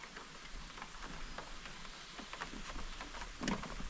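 Steady rain falling outdoors at a firewood shed build site, a dense even hiss with scattered louder drops and a brief heavier spatter near the end, no voices.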